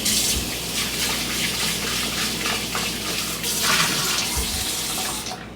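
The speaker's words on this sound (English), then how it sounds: "Rinse your kitchen tools" Tap water runs steadily into a kitchen sink while cooking tools are rinsed during egg scrambling, a continuous loud gush with small splashes and clatters, close and alone without talk.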